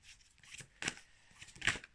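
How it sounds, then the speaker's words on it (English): Quiet riffling and soft slaps of tarot cards being shuffled, with two sharper bursts of cards snapping together, close and fairly faint. "so just going to shuffle the cards."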